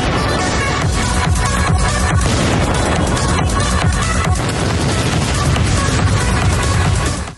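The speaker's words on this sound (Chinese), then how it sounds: "爆炸声响彻云霄" Explosions from drone strikes and cannon fire on a residential building in Toretsk, eastern Ukraine, in war footage: loud, dense, continuous rumbling blasts and crackling bursts, with no voices.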